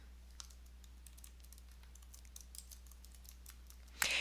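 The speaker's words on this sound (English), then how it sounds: "it's going to ask me to type in my name" Soft, quick keystrokes on a computer keyboard as a name is typed, faint clicks scattered over a steady low hum, ending in a louder burst of clatter.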